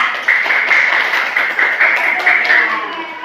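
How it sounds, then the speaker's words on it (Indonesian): A classroom of students claps for group 3 in a continuous patter of many hands, fairly close, rising and falling slightly in loudness throughout. "tepuk tangan dulu buat kelompok 3"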